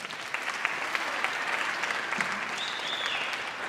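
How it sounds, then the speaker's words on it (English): Steady applause from a school concert audience fills the room, a dense wash of clapping that holds at even loudness throughout. "We can give them a round of applause."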